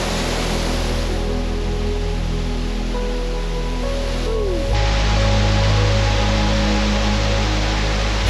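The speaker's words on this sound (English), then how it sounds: "Underneath a waterfall." Rushing water at a hidden mountain waterfall in the Baguio District of Davao City, a loud, constant broadband roar heard up close, with a steady low hum underneath.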